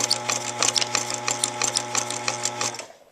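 Sewing machine stitching a straight seam through paper, a fast even mechanical chatter with a steady hum, close and alone, stopping just before the end.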